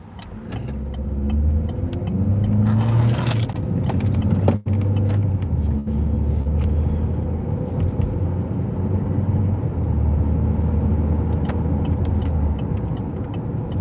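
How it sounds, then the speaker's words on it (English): Steady stream of cars passing one after another on a rural Pennsylvania road during a fall drive, a continuous near rumble of engines and tire noise with swells as vehicles go by, no talking. "Just this endless cars coming."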